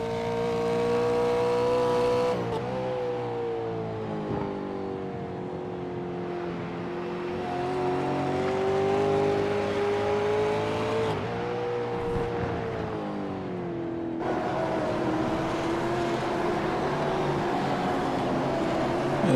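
V8 race cars in iRacing at Road Atlanta powering out of the final corner, a steady loud engine drone with rising and falling revs and gear changes, several cars blending together without pause.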